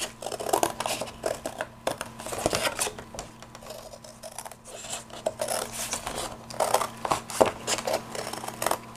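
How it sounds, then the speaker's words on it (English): Scissors snip through a thin chipboard triangle for a Halloween papercraft piece, giving repeated close, dry cutting and rasping strokes in an irregular rhythm over a low steady background hum, with no talking. "So now I'm just going to cut out a triangle."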